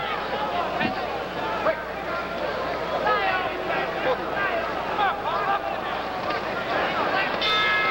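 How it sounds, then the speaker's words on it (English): A boxing ring bell closes round 11 of a 15-round middleweight title bout, ringing faintly under loud arena crowd noise and a commentator's continuous talk. "There's the bell."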